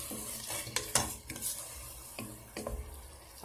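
Food frying in a pan while being stirred for a traditional Kabyle wheat-pasta dish in sauce, a soft steady sizzle broken by scraping stirs and light clinks of utensil against the pan, fairly faint and close.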